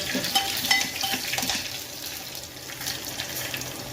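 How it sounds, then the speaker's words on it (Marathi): Cumin seeds and green chili fry in hot oil in a pan, giving a continuous crackling sizzle with a few brighter spits near the start, close by and fairly steady throughout. "जिरं हिरवी मिरची हे व्यवस्थित चांगल्या प्रकारे फ्राय होऊ"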